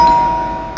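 A household doorbell chimes once, a sustained bright tone hanging and slowly decaying for under a second, fairly loud with a fresh chime starting right at the end.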